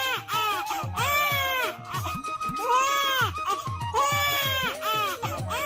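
A newborn baby cries loudly in a story sound effect, with repeated rising and falling wails and brief catches of breath between them.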